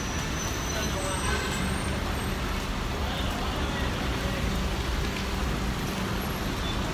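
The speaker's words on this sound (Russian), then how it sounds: "Дождь идет." Steady rain hisses over a crowded city-centre street in Yangon, Myanmar, with a dense wash of passing traffic, engines and buses under constant noise, plus occasional distant voices.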